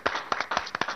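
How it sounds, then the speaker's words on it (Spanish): A lone person clapping in a Peruvian TV studio, about six uneven, fairly soft claps in quick succession with small gaps, no crowd joining in. "Oye, está aplaudiendo solo, chicos."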